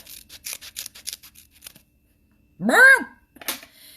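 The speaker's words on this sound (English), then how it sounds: "I actually take it and I cut it in half" Scissors snipping an under-eye patch in half during a makeup routine, a few quick close cuts followed by a louder crisp snip, with soft handling noise around it.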